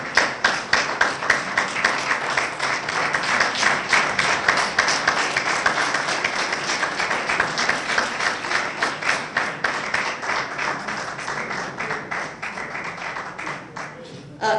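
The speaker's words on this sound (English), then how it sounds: "you have already given applause" A large audience at a school event keeps up a long, steady round of applause. The dense clapping stays loud throughout and fades slightly toward the end.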